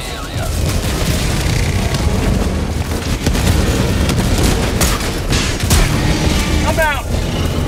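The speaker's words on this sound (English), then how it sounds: "Firing orbital barrage." Orbital barrage strikes in Helldivers 2 while defending against bots, a dense roar of heavy booms and blasts rolling continuously through the scene, loud and close, with battle noise throughout.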